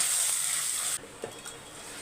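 Mustard seeds, a little cumin, garlic, dried chillies and curry leaves tempering in hot oil: a loud, close hiss for about a second that drops suddenly to a quieter sizzle with faint stirring clicks.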